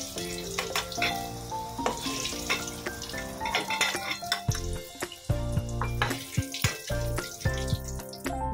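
Potato pieces frying in hot oil for Bengali mutton kosha, a continuous close sizzle with frequent clinks and scrapes of a utensil against the pan, fairly quiet and without talking.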